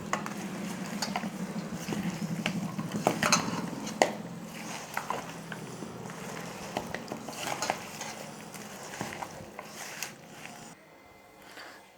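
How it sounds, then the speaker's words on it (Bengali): Beef being mixed by hand with cumin, cinnamon and cardamom powder in a metal bowl gives close, irregular clinks, scrapes and soft squelches, busy at first and thinning out toward the end. "এর ভিতরে দিয়ে দিয়েছি জিরার গুঁড়া, রং ফুল, ডালচিনি, ছোটো এলাচের গুঁড়া দিয়ে একসাথে মাখিয়ে রেখে দেবো"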